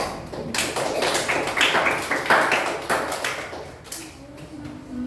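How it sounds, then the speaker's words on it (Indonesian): Schoolchildren clap their hands together in a classroom, a burst of many quick, uneven claps and taps close by that tails off near the end. "Tepuk tangan dulu anak-anak"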